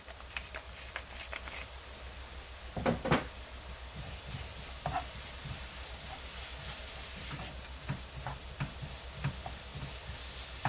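Vegetables stir-fried in a pan with a pinch of salt and pepper, giving a steady low sizzle under scattered scraping clicks of a spatula against the pan, with a brief louder stir around the middle.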